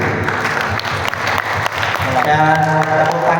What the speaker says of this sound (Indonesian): tepuk tangan untuk Hani di sini